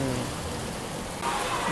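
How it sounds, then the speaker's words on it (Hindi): Heavy rain pours steadily at a railway station in Etawah, a dense continuous hiss filling the whole stretch, with a brighter, louder wash of rain in the last half second. "इटावा आते आते जब बारिश ने मचाई है भाई साहब"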